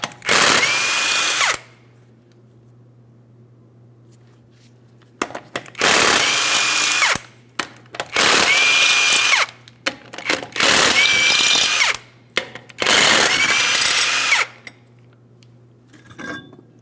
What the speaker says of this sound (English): we're going to be using a 21mm to remove all 5 of our lug nuts